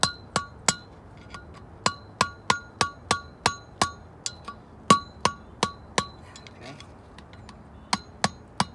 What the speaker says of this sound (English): The only thing holding it in is that washer, which I'm replacing all of that, so I can just kind of beat this thing out.